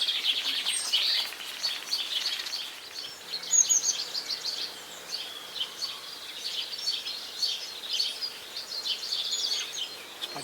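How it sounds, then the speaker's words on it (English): Summer birds sing outdoors in evening light near a magnolia tree, a steady chorus of high chirps and trills layered at mid distance, continuous with no talking. "Lovely summer birds."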